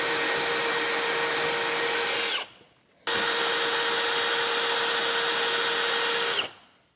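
A power drill whines steadily at high speed in two long bursts, drilling out holes in metal for a 5th wheel underbed kit on a 2024 GMC Sierra, each stopping abruptly with a short gap between, loud and close with no talking.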